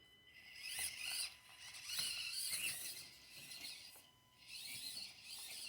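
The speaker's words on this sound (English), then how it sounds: "Now you hear that rubbing?" Axial SCX24 RC crawler driving over a small rock course with its body rubbing, a faint high scratchy whirring that rises and fades in bursts as it moves.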